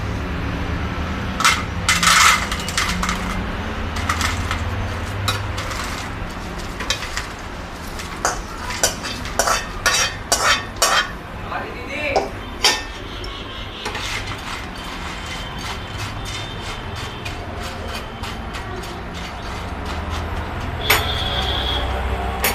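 Roasted mango seed kernels for mukhwas rattle and clatter against a pan, in irregular bursts of hard little clicks with quieter stretches between, close up with no talk.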